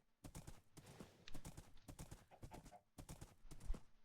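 Video-game horse hooves clip-clop in quick, irregular bursts of soft knocks, quiet and fairly close, with short gaps between runs of steps.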